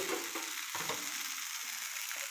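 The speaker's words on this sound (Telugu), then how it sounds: "మంచిగా వేగుతుంది, కలర్ బాగా వస్తుంది" A jowar dosa fries in a hot pan with a steady, close crackling sizzle and a few brief scrapes, with no voices.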